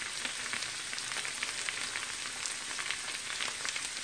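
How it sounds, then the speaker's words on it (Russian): Sliced potatoes sizzle steadily in refined sunflower oil in a hot frying pan, a dense, continuous crackling hiss heard close up with no voices. "на раскаленную сковороду выкладываем картошку порезанную"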